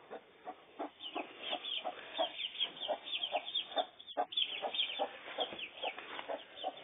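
Chickens in a coop cluck steadily and overlap in a busy, close, moderately loud chorus with no voices.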